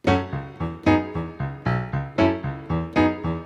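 Piano plays a minor 9 chord groove: a steady pattern of short, punchy chord stabs, roughly nine evenly spaced hits alternating accents, close and clear with no talking.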